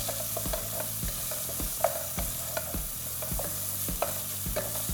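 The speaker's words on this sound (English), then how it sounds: "Just make sure to keep stirring to have all the melon seeds coated in palm oil." Egusi melon seeds are stirred as they fry in palm oil, a steady close sizzle broken by repeated scraping strokes of a spoon against the pan at an even rhythm, with no talk.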